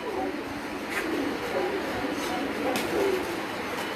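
Pigeons coo softly and steadily at a rooftop breeding loft, low murmuring calls repeating under a constant outdoor hum, with faint voices nearby.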